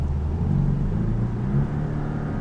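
A 2017 Porsche 718 Boxster S turbocharged engine with PDK transmission hums steadily from inside the cabin, its low rumble shifting pitch slightly as the gears change smoothly without a break.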